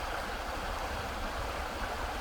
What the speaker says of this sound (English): Quite a torrent of water coming down.